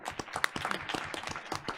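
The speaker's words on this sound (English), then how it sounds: "let's give a round of applause." A small group at a board of education meeting giving a round of applause, scattered, fairly faint clapping with uneven rhythm, a few hands heard distinctly in a room.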